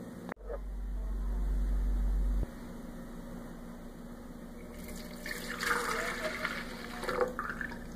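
Liquid pours into a blender jar for a Brazilian corn cake batter, a steady splashing stream for a couple of seconds followed by softer clinks and handling sounds in a kitchen.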